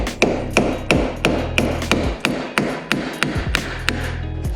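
Hammer repeatedly striking a 7mm socket over a half crescent key to drive a bearing off a shaft held in a vise, a steady series of about a dozen sharp, close metallic taps with ringing between strikes.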